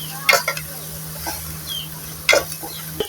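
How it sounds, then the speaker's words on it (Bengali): Spices are stirred together in a hot pan for chicken kacchi biryani: two scraping spoon strokes over a soft sizzle, close and fairly loud. "এরপরে সব মশলাকে একসাথে মিক্স করে নেবেন"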